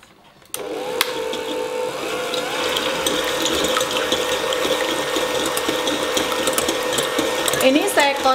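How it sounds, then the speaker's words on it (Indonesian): Electric mixer whisking egg whites at low speed, around speed 3, starting abruptly and then holding a continuous whirring, clicking mechanical drone, close and steady. "Ini saya kocok di speed yang agak rendah ya. Saya mulai dari speed 3 gitu."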